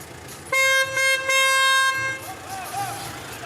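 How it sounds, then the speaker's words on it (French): A car horn blares in a few long, loud honks close by, followed by quieter background noise. "Arrête de klaxonner, Warda, arrête."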